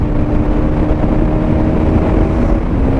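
An NS motorcycle carrying two riders and luggage roars along a road, its engine drone steady and loud with strong wind buffeting throughout and no talk.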